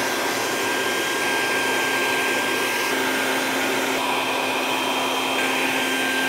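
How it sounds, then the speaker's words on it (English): A vacuum cleaner runs loud and steady, a constant close whine and roar as it sucks up spilled wood pellets beside an opened Yoder pellet grill's jammed auger, with no talk. "I'm gonna get a vacuum"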